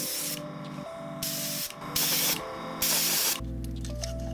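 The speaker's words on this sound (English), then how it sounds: "now that we're done spray painting" Spray can applying green paint to a Star Trek phaser prop, heard as several loud, close hissing bursts separated by short pauses, with a faint mechanical hum between them.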